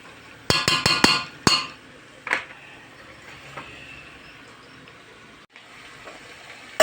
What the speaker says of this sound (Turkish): Böyle 3-4 dakika kavuruyorum.